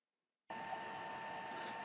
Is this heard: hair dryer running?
yes